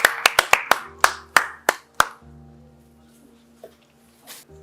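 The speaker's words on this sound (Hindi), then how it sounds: "जोरदार तालियां हमारे प्रतिभागी के लिए।" Sharp hand claps from a small group ring out in a quick burst, then a few scattered claps before they trail off into quiet.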